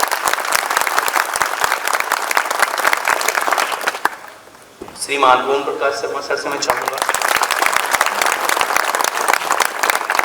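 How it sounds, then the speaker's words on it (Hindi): A school function audience breaks into loud, sustained clapping that fills the room, fades briefly while someone speaks into a microphone, then swells again into dense applause. "एक बार जोरदार तालियां"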